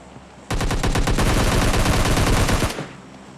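Rapid automatic gunfire in the PUBG Mobile Lite mobile battle-royale game, a loud sustained burst of closely spaced shots lasting about two seconds before cutting off abruptly.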